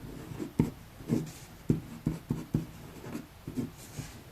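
Pen strokes writing numbers by hand on paper during a maths lesson, a series of close, soft scratching taps in an irregular rhythm, with no speech over them.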